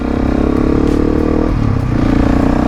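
A Husqvarna 701 motorcycle riding along a dirt road, its engine droning steadily and loudly with rumbling, clattering road noise and a slight dip in pitch partway through, no voices.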